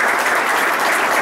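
A short burst of steady audience applause at a commemorative ceremony for bocce, dense clapping from a gathered crowd with no voices standing out.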